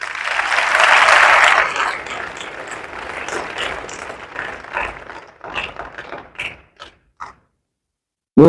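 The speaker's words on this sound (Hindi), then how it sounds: "एक बार तालियां तो बजती है।" An audience applauds at an RCM achiever recognition event, starting as a loud burst of clapping that thins into scattered claps and then stops.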